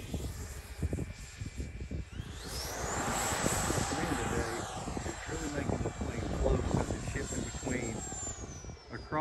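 An FMS Futura v3 RC sport jet with Reflex v2 flies past, its ducted-fan whine rising and sweeping in pitch as it approaches and passes, loud and sustained, with wind noise throughout and no speech.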